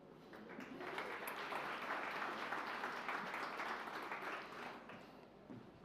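Audience applause greeting the executive director of the Latvian Association of Large Cities as he is welcomed onto the stage at a housing conference opening; steady, dense clapping of a sizeable crowd, sustained throughout and tapering slightly at the end.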